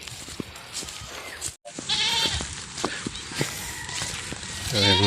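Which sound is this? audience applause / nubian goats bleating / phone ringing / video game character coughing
nubian goats bleating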